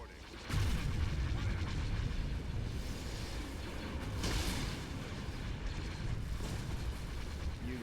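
Space battle weapons fire in a Star Wars Empire at War mod: heavy booming blasts and a continuous rumbling barrage, loud and dense, with a couple of sharper explosive bursts.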